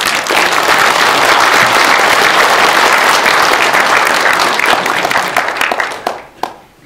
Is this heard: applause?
yes